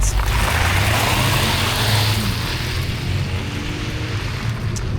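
A Ford Tourneo Courier's engine pulls steadily under acceleration, a loud continuous low drone with road and wind rush, heard from inside the cabin with no talking.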